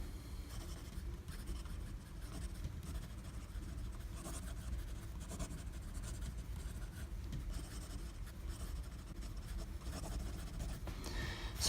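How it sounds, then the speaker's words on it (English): A Diplomat Esteem fountain pen writes quickly on paper with a soft, close scratching of nib strokes, continuous and faint, and no voices. "just do a little bit of quick writing"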